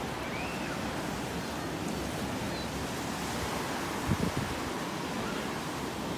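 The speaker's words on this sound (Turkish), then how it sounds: "Gördün mü ya deniz ne kadar dalgalı?" Rough, choppy sea rolling onto a sandy beach at Ünye, a steady broad wash of surf with a low rumble and a little wind buffeting, no speech.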